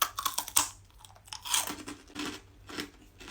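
Someone chews crunchy freeze-dried Knobbly Bobblies sweets, with close, loud crisp crunches and bites in a quick irregular rhythm that keep going through the whole moment.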